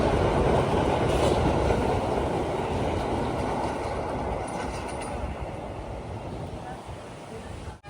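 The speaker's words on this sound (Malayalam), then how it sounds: "ഇപ്പം ഇവിടെ ഒരു ട്രെയിൻ ഓൾറെഡി വന്നിട്ടുണ്ട്" A train at a small station on Sri Lanka's coastal line rumbles steadily at close range, a broad continuous roar of wheels and carriages that slowly eases and then cuts off abruptly.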